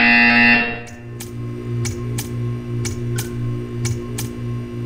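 A loud electronic buzzer in the video game Portal 2 blares briefly, then a low steady hum continues with a series of evenly spaced clicking ticks.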